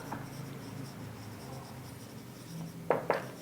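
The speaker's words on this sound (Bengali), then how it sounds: "তো আমরা এখানে লিখি অ্যাট ফার্স্ট" Writing data by hand, with soft scratching of a pen or pencil on paper, quiet and steady, ending with two brief louder strokes.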